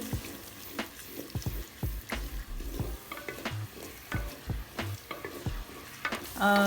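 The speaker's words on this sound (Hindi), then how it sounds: "इसको हम 1 मिनट के लिए फ्राई करेंगे।" Ginger garlic paste fries and gets stirred in a pan while cooking chicken nihari, with steady close sizzling broken by repeated spoon scrapes and clinks against the pan and a brief tap-like splash near the end.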